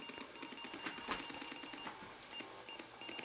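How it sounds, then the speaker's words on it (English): Faint, quick electronic beeps from an Atari 8-bit 800 XL/XE home computer starting up with extra RAM, low in level against a steady background hiss. "you hear the beeps are different."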